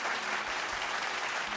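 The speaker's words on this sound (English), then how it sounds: "Make sure to give Moose a round of applause" Steady round of applause from an audience, dense hand clapping sustained throughout with no voices over it.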